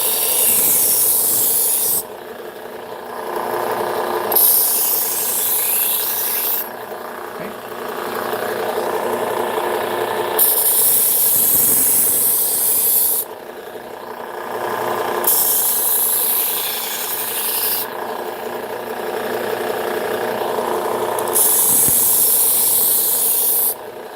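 A kitchen knife is drawn over a sharpener in long, even strokes, a steady rasping rub that pauses and resumes several times over a low mechanical hum.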